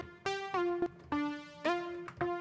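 Serum synth in Ableton playing a melodic techno line: short plucky synth notes in a quick rhythmic sequence, some gliding into one another, clean and close with no voices.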